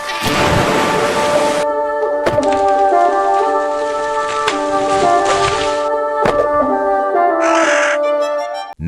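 Rain in a neon-lit futuristic city video game, a continuous hiss of rainfall under sustained synth tones and rumbling thunder-like swells, loud and steady with no talking.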